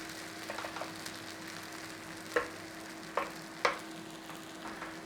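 Onions cooking low and steady in a pan, a faint soft sizzle with a few sharp scraping stirs of a utensil against the pan.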